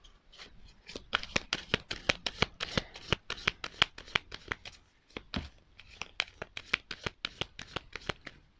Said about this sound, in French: Donc, je vais prendre 5 cartes. Voilà, donc je vais couper.